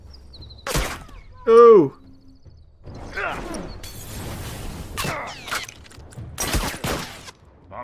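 A grenade thrown and exploding in a video game: sharp bursts punch through scattered game sounds, with a short exclamation from a voice in between.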